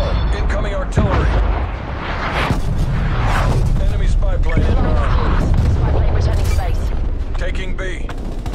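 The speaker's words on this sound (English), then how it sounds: "Hostile artillery targeting active. Net call. Incoming artillery." Incoming artillery explosions from a Call of Duty Black Ops Cold War multiplayer match, with repeated booming blasts rumbling under a voice and busy battle noise.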